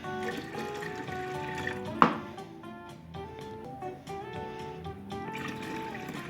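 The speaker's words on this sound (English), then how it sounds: "add 4 cups of hot water" Hot water pours into the top of a Flavia Creation C200 coffee machine being descaled with white vinegar, a soft steady liquid fill with one sharp knock near the start, set against constant background music.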